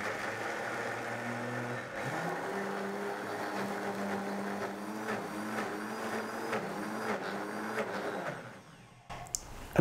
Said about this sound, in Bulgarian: И така, сега разбиваме, докато се получи нещо като една вкусна извара.